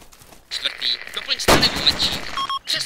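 Gunfire crackles through woodland in the military shooter Arma II, a heavy report followed by a dense, sustained burst, mid-distance and loud amid wind-like battlefield noise.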